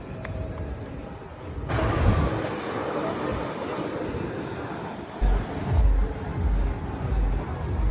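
Broad roaring airplane engine noise as a plane lands at an airport near a container park restaurant in Singapore, swelling steadily and fairly loud with a rumbling low end throughout, no talking.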